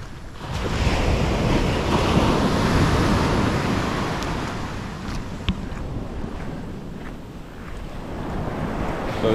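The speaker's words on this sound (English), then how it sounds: "just walking along the beach without a care in the world? Listening to the waves" Ocean surf rolling onto a beach at Port Barton, Palawan, loud and close with heavy wind buffeting the microphone, swelling and easing over several seconds.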